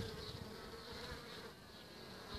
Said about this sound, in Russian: появились пчелки